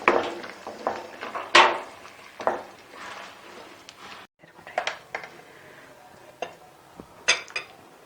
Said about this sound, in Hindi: और चम्मच चलाना है आपने।